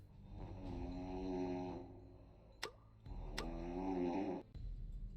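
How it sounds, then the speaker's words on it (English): Rhythmic snoring from the general in the video game Emerald City Confidential, two long rasping breaths with a brief pause between, close and steady. "The general sure can snore."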